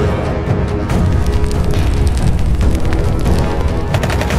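Loud, dense rumbling blasts and rapid bursts like explosions and gunfire, continuous and booming throughout.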